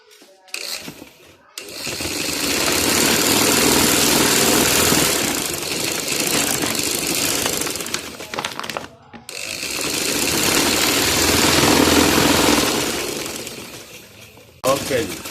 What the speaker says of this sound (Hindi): ये लें व्यूवर, इसकी सिलाई मुकम्मल हो गई है